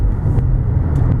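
A 2002 Mercedes-Benz E320 Sport rolls over uneven, potholed, rough pavement, heard from inside the cabin as a steady low road rumble and tire noise with faint thumps.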